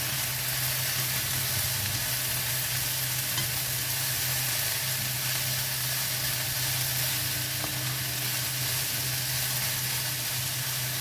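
Bihon noodles frying with mushroom and shrimp, a steady close sizzle with the scrape and rustle of stirring running throughout, loud and unbroken with no talk.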